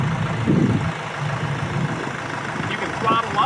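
A tractor with a glide shift transmission runs at a steady low idle, its engine a constant rumble with a faint intermittent voice in the background.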